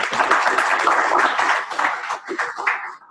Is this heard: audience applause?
yes